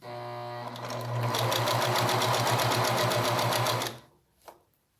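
A domestic sewing machine runs a steady, rapid stitching burst through gathered fabric for a small handbag, close and loud for about three seconds, then stops, leaving a brief faint click.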